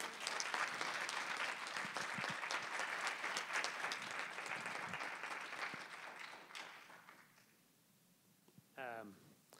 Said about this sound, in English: maybe we can give her a big round of applause.